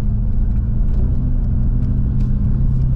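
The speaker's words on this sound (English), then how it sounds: "it's not a solid sound coming out the pipe. It's very muffled and choppy." Diesel truck engine idling through the exhaust pipe, a loud, muffled, choppy low rumble that runs steadily throughout without any clear revving.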